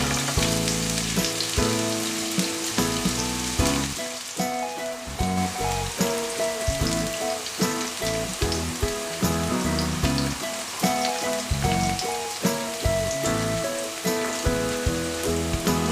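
Onion and garlic fry in a pan for a broccoli beef stir fry, a loud, dense sizzle and crackle running continuously, with rhythmic stirring and scraping strokes throughout.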